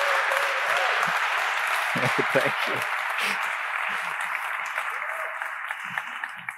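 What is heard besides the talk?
audience applause for a conference speaker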